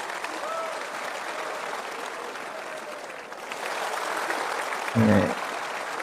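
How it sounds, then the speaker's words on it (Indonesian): Crowd applause outdoors during a public event, a steady broadband clapping wash with cheering voices, swelling slightly louder in the second half. "semua tepuk tangan nih guys."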